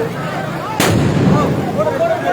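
A single firecracker bursts sharply at an outdoor election campaign gathering in a Tamil Nadu village, a loud bang with a brief rumbling tail over background crowd chatter and talk.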